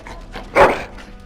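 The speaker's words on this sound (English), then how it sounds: "Bloody dog." A single dog bark from the fantasy video game Dragon Age Origins, a short sharp burst rising out of quiet background ambience and then fading away.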